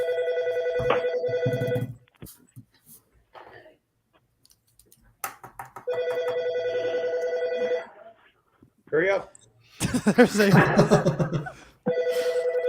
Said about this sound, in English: That is a home phone ring.